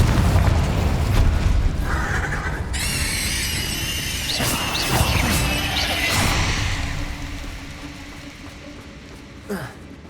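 Casting Confringo in Hogwarts Legacy releases a fiery explosive spell: a deep rumbling boom and whooshing blast, with a shrill rising squeal over it, then a gradual fade and a small late pop.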